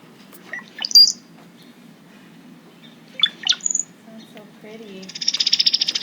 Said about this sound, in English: Okay, so that's a brown-headed cowbird.